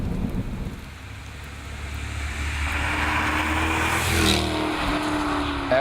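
A 2012 Jaguar XKR-S is driven on a mountain road, its engine building from a low rumble to a steady, fairly loud roar with a rising tone, and no voices.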